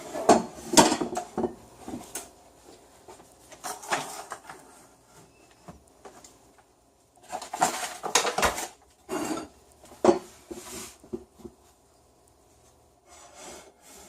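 A hot metal baking pan and cookie sheet are shifted around while making rustic bread, producing close scraping, rubbing and clattering bursts separated by brief quiet pauses, with no talking.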